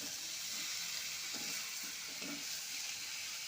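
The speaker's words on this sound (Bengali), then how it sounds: "আলু ফুলকপি ভেজে রাখা এটাও দিয়ে দিচ্ছি, দিয়ে এখন মশলার সাথে ভালো করে কষবো" Spiced potato, cauliflower and peas frying and being stirred in a pan for a Bengali cauliflower dish, a steady close hiss with a few brief scraping stirs and no talk.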